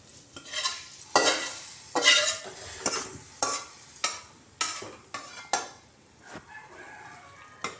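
Spices for sambar, including turmeric powder, are stirred and fried in a pan, with a series of sharp scraping strokes and brief sizzles recurring at an uneven rhythm, close and fairly quiet.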